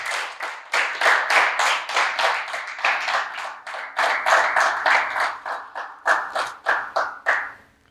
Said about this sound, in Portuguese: Uma salva de palmas ao Senhor, glória a Deus.